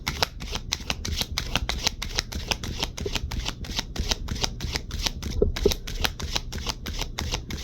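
Tarot cards being shuffled to draw a clarifier card, a steady run of quick riffling flicks repeating close up for the whole stretch, with no voices.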